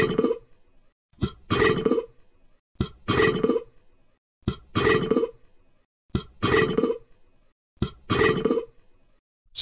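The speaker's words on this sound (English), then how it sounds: "Burp." Six loud, drawn-out burps come one after another at an even pace, each about a second long with short silent gaps between, close and clear with no talk.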